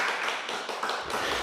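A church congregation claps in thanks, giving a brief burst of dense, close applause that lasts only a moment.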